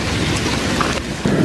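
Rain falling steadily outdoors, a dense, loud, continuous hiss with a low rumble under it and no voices.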